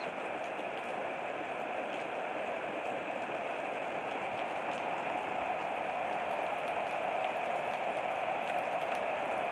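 Gentle rain falls in a steady, even hiss that stays constant and moderately faint throughout, with no voices.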